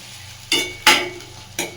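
Chopped onion frying in oil for paneer butter masala, with three distinct scraping stir strokes of a spatula over a low, steady sizzle.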